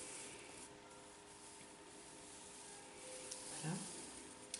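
A soft exfoliating brush rubs close to the microphone in a quiet room, a faint continuous scratchy brushing with a brief louder stroke near the end.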